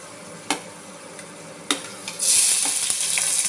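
Onion and green chili go into a hot pan with fried chana dal, a couple of sharp utensil knocks followed by a sudden loud burst of sizzling that keeps hissing steadily and close, with no talking.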